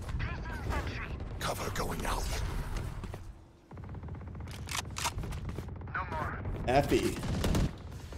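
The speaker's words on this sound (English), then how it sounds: "With the Odin spray through the wall, takes down." Rapid machine-gun bursts from an Odin sprayed through a wall in a competitive tactical shooter match, sharp automatic fire under excited commentary.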